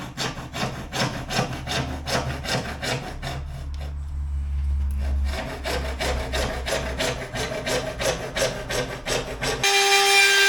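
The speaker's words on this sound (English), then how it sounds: "I'm just going to take the flick off with the saw." A hand saw trims a wooden piece for a Pullman-style dinette on a narrowboat. Quick rhythmic back-and-forth strokes sound close and crisp, with a short pause midway before the sawing resumes.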